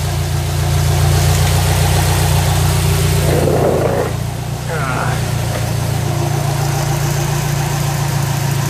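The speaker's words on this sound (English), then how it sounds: "So yeah, perrin headers on a Baja, equal length. Pretty cool. Nice smooth idle." A Subaru Baja fitted with Perrin equal-length headers idles smoothly, a steady low engine hum close by. Midway a few short rougher bursts break through briefly, then the even idle continues.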